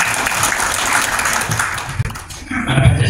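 An audience at a community gathering on Pancasila democracy claps hands in a dense patter that dips briefly midway and then resumes, with a voice talking underneath toward the end.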